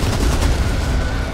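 A grenade explosion in the video game Back 4 Blood, a dense, loud, sustained roaring blast filling the short moment, with no talk over it.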